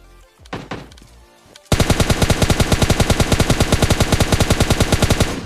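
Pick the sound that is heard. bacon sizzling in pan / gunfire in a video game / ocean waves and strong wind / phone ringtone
gunfire in a video game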